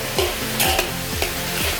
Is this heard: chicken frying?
yes